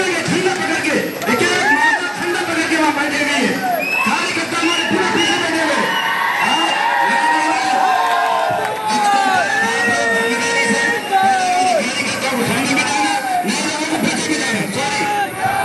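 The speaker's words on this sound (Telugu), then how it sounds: "దీంతో ఒక్కసారిగా క్యాడర్ చప్పట్లు," Party cadre at a political gathering break into loud crowd cheering, whoops and shouts, a dense sustained roar with excited voices mixed throughout, near and continuous.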